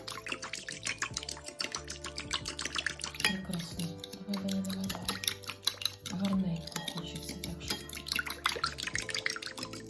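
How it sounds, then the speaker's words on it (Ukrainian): A marinade for pickled eggplants is whisked and stirred in a bowl, with continuous clinking and scraping of a utensil against the dish and faint liquid sloshing. "Тепер це все ми маємо трошечки збити. Ось так. Ось так. Перемішуємо."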